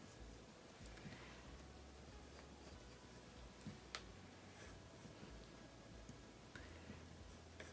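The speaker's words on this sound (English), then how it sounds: "so now we're gonna lightly sketch out the body." Pencil lightly sketching a T-Rex on paper, faint continuous soft scratching strokes with occasional small taps, quiet and close.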